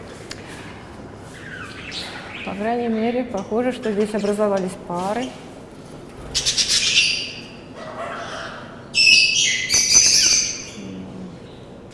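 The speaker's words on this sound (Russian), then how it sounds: "А здесь вот такая большая компания волнистых попугайчиков, австралийские виды." Budgerigars, an Australian parrot species, chirp and squawk in a group in a park aviary, with short bursts of calls between stretches of someone talking over them.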